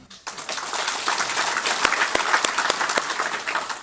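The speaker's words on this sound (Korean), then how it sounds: "다시 한번 심찬 박수를 부탁드리겠습니다" Audience applause at a provincial day ceremony and general assembly, starting abruptly after a brief pause and continuing as dense, steady clapping with a few sharper individual claps standing out.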